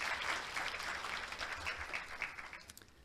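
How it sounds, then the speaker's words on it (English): An audience at a Korea University international winter campus orientation gives a round of applause, fairly faint and distant in a large hall, fading out toward the end. "Ladies and gentlemen, please give them a big round of applause."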